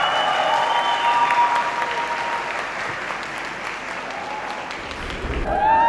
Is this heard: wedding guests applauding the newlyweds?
yes